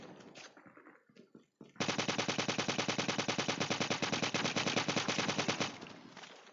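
A machine gun in the Call of Duty video game fires one long, rapid, evenly paced burst. It is loud and close, starting after a short stretch of quieter game sounds and cutting off near the end.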